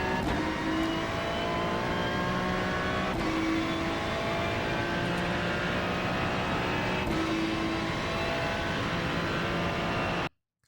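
Ferrari 296 GT3 racing at Sebring in iRacing, engine droning at sustained high revs with steady pitch and a few brief shift blips, loud and continuous throughout before cutting off at the end.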